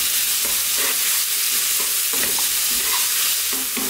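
Onions fry in a pan over above-medium heat for a chicken eggplant curry, a steady broadband sizzle broken by regular scraping strokes as they are stirred often, loud and close with no talking.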